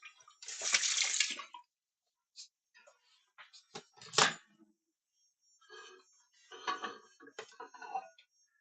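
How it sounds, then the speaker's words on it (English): Hot water runs from a tap in short splashing bursts, one longer gush at the start and then several brief spurts and drips, close by with silence between. "That's hot water."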